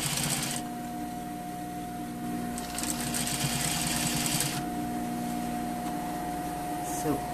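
Sewing machine stitching the front fly of a pair of trousers, with a loud, close, steady whirring buzz that runs in bursts, pausing and restarting, with a constant hum beneath.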